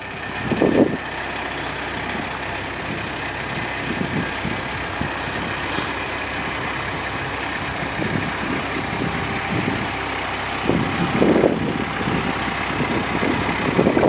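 A 2013 Palfinger GT55 piggyback forklift with a Kubota diesel engine and hydrostatic drive runs steadily at a low, constant rumble, with brief louder surges near the start and again toward the end.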